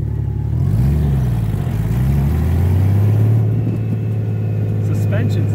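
A Goldwing with a shifter on a test drive: a steady close engine drone whose pitch rises and dips as the throttle changes, with a constant road and wind rush underneath.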